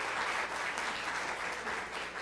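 A soft, steady wash of clapping comes from an audience at a student media awards event, greeting a special guest, with no voices over it.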